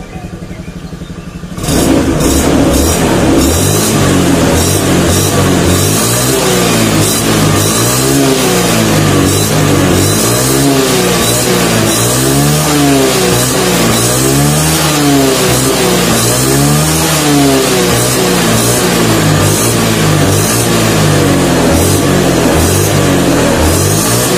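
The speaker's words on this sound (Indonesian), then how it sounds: "Coba kita geber antara kenaikan RPM sama putaran gas itu seirama apa enggak" A Yamaha Vixion motorcycle engine, which has a squeaking fault, is held loud and close at high revs for about twenty seconds after a sudden start, the pitch rising and falling in repeated throttle waves, with no talking.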